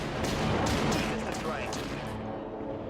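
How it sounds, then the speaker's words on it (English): Rapid fire from Amplify Weapons on an artillery cruiser in the Dreadnought video game: a dense, loud barrage of fast booming shots that tails off toward the end, with a voice talking over it. "Very, very fast rate of fire."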